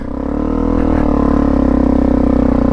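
A 300cc two-stroke enduro motorcycle revving up close, its loud buzzing engine rising and holding a throbbing, raspy tone.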